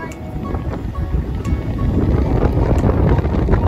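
Strong wind blows across the open water of Huai Nam Sai reservoir, a steady loud rush buffeting the microphone throughout with no talk.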